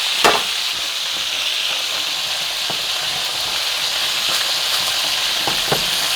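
Handmade sun-dried tomato gnocchi toasts in a hot pan, giving a steady, close, loud sizzle and crackle with a few sharp clicks and stirring scrapes, and no voices.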